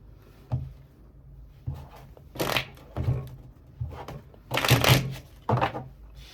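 Tarot cards are riffled and shuffled, then drawn from the deck, in repeated brisk bursts of close papery flutter separated by short pauses, with no talking.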